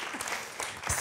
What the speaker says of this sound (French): On peut l'applaudir, c'est pas mal ce qu'il dit quand même.